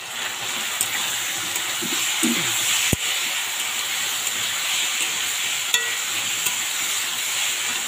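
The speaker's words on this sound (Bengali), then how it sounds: "তো মশলাটাকে সুন্দর করে আমি ভাজবো" A spice paste frying in a pan gives a steady, close sizzle throughout, with a sharp utensil tap near the middle and another later on.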